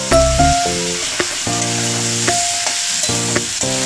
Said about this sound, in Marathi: नंतर ते चांगले तेल आणि मीठामध्ये परतून घेते.